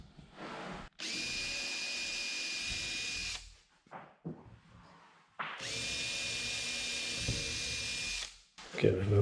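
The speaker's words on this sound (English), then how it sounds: "So just going to drill a couple of little holes." A power drill bores small holes in glued boat hull panels in two loud, steady bursts of about four and three seconds, with quiet handling noise between them.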